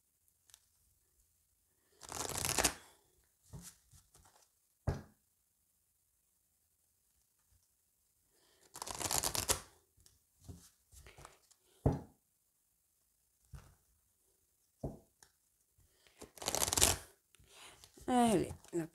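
A deck of oracle cards being shuffled and cut in a tarot-style reading, several short papery riffle bursts separated by quiet gaps, with someone speaking softly between them.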